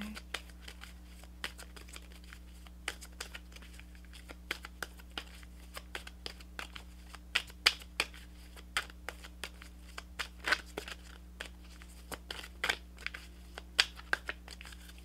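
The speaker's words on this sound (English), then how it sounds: "I'm shuffling so much" Tarot cards being shuffled by hand, a soft run of quick riffles and flicks over a steady low hum, faint and close with no talk.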